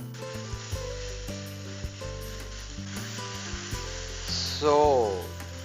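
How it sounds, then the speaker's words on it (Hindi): Marinated chicken fries in a little oil in a frying pan with a steady sizzle under background music, and the hiss swells briefly near the end. "अब इसको फ्राई पैन में थोड़ा सा ऑयल डाल के 2-3 मिनट इसको फ्राई करेंगे"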